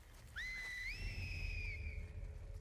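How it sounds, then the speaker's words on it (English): Scars enemies in The Last of Us Part II whistle a long, clear rising-and-falling signal, loud and close, with a faint answering tone against a low ambient rumble. "Damn, they are really good at whistling."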